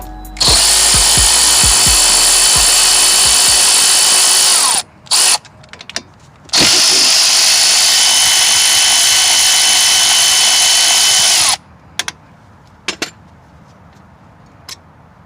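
A power tool driving a 13mm socket whines loudly in two long sustained runs, removing front brake caliper fasteners on a 2005-2016 Chevy Impala, with short bursts and clicks between runs.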